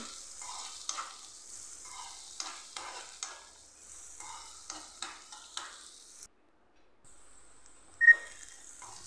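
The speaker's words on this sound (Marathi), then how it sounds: "आणि हे चांगलं असं 2-3 मिनिट भाजून घ्यायचं आहे." Onion roasting in a pan for upma, a soft, quiet sizzle with regular stirring scrapes, a brief pause, then a sharper clink near the end.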